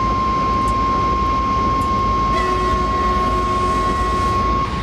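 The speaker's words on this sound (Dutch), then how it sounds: "Ik kreeg een hartaanval van die toeter." A train horn sounds in the Train Simulator video game: a loud, sustained, steady tone holds for the whole five seconds over a constant rumbling engine and rail roar, with no talking.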